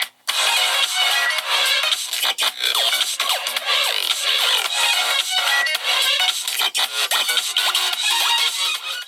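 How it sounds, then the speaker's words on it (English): Music plays loud and bright through the small stereo speakers of an Infinix Note 10 Pro phone, thin in the bass, with brief dips between phrases. "Here's an audio sample."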